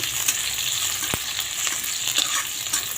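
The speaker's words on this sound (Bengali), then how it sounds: "এই যে এখন পেঁয়াজটা ভেজে নেব।" Chopped onions frying in oil with nigella seeds for an okra dish, a steady close sizzle with a sharp spatter or utensil tap near the middle, no voices.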